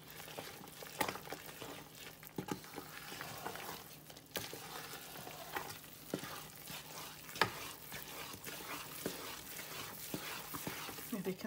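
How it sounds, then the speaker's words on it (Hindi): A flaxseed mixture is stirred and fried in a pan, producing a soft steady sizzle with repeated scraping and tapping spatula strokes, fairly quiet and close, with some talk in between. "तो बस यहाँ पे हम अच्छे से मिक्स करेंगे।"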